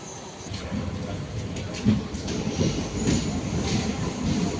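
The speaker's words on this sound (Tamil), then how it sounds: "இப்போ நம்ம ராமநாதபுரம் ரயில் நிலையத்திலிருந்து கரெக்டாக 2:30க்கு அதிகாலை நம்ம புறப்பட்டுருக்கோம்" The Sethu Superfast Express pulls out of Ramanathapuram railway station before dawn, with a steady close-up rumble of wheels and carriages and faint rhythmic clatter building as it moves.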